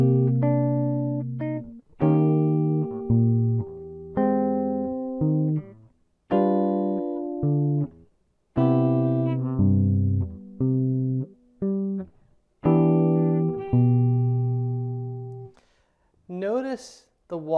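Fingerstyle guitar plays a tune with a walking bass line, plucking phrases of chords and single notes that ring and decay, separated by brief pauses, ending with a rising glide of high notes.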